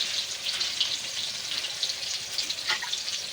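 Pointed gourd frying in hot oil, a dense continuous crackling sizzle, close and steady, with no talking.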